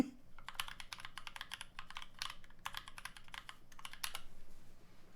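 Typing on a Novelkeys NK65 hot-swap mechanical keyboard: quick, irregular bursts of crisp, close keystrokes with short pauses between runs, and no other sound.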